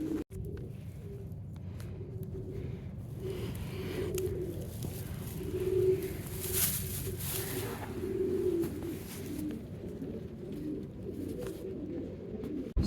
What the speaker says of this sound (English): So we're out here in the aviary.